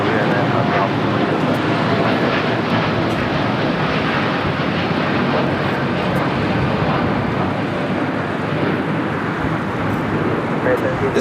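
A United Airlines Boeing 787-9 Dreamliner taking off at LAX, bound for Newark: a loud, steady, broadband jet engine roar that fills the whole clip without letup, with no speech over it.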